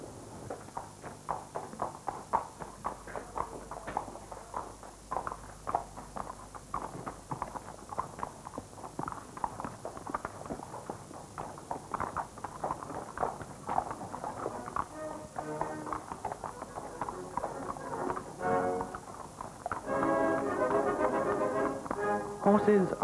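Horses' hooves clip-clop in a steady, overlapping rhythm as a team moves on a saluting parade, with a mid-level din of background activity throughout and the sound growing louder and denser near the end.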